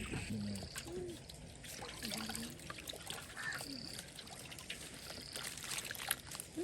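Hot water trickles and pours during outdoor cooking on an African village farm, a soft steady stream beneath crows cawing repeatedly nearby and faint background voices.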